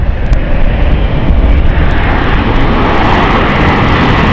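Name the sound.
aircraft landing on runway 27 at London City Airport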